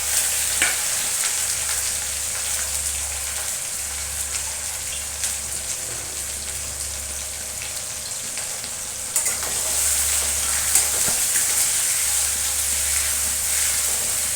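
Ginger and green chilli sizzle in hot oil in a pan, a steady bright hiss with occasional stirring scrapes, continuing without talk and rising slightly in intensity partway through.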